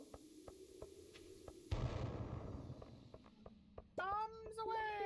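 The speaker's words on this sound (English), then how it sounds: "Drop a bomb." A bomb goes off in the Stardew Valley video game, a sudden low, crackling blast that decays over about two seconds, set against light repeated game clicks and followed by a voice speaking.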